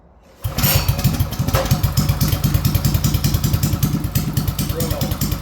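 A small carbureted Performance 224 engine catches on the first pull and settles into a slow, low, even idle, loud and close with a steady chugging pulse throughout.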